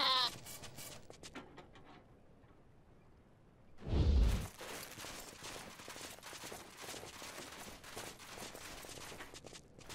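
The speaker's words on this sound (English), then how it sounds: "Goats." Goats in the video game Wasteland 2 bleat in a short burst at the start, followed by a quiet lull, a sudden loud thump, then scattered game noises and soft footsteps.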